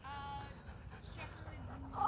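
A puppy at a dog park whimpers in short, thin whines over outdoor background noise, with people talking nearby.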